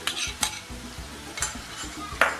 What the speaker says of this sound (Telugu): ఇలా మిక్స్ చేసుకోవాలి